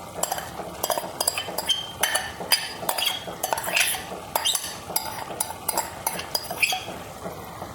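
Fried clam meat is tipped into a metal cooking pot and stirred, giving repeated close clinks and scrapes of a spoon against the pot in an irregular rhythm, with no talking.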